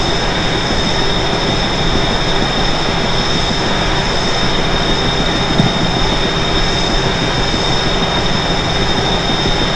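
A passenger train on the Northeast Corridor rolls along in a steady, loud, continuous rumble with a constant high whine, heard from on board with no pauses or voices.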